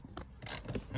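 A wrench working a tight seat bolt inside a Porsche Boxster 986, a brief close sequence of scraping, ratcheting metallic clicks and rubbing, moderately quiet with no talk over it.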